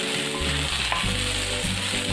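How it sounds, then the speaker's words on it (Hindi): Turmeric roasts in hot oil for a bitter gourd and onion sabzi, giving a close, steady sizzle with low stirring clunks underneath. "आधा चम्मच हल्दी डालेंगे और उसको भून लेंगे अच्छे से"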